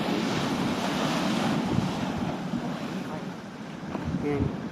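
Ocean surf rushing steadily with heavy wind buffeting the microphone, a broad continuous roar, with a faint voice briefly near the end.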